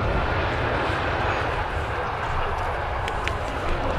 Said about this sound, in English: Beautiful Dreamliner there.